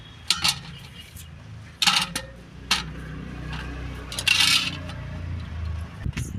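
Freshly harvested white brinjals from a home garden set down onto a plate, giving several scattered clinks and light knocks over a low background hum.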